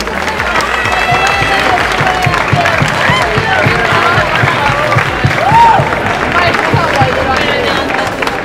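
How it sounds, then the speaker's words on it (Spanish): Crowd applause and cheering for the winner of a cosplay contest at the DreamHack 2014 gaming event, dense and sustained throughout, with crowd noise and a few voices mixed in. "¡Un muy fuerte aplauso!"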